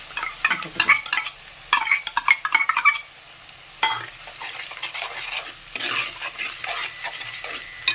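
Ground tomato paste sizzles and fries in a pan while a spoon stirs it in quick scraping bursts, then the sizzle settles into a quieter, steady crackle, with no talking.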